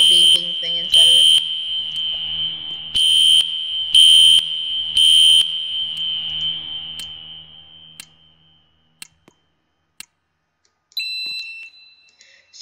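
A piercing electronic fire alarm tone in the game Roblox sounds in repeated bursts, then holds steady before fading out, followed by a few faint clicks and brief chirps.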